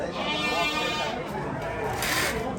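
Sheep bleat at a livestock market in Termez, with a few bleats rising over busy crowd chatter and voices nearby.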